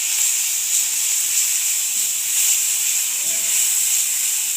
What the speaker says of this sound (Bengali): বাটা মাছটা তো এখন আমি পেঁয়াজ বাটাটা দিয়ে দেবো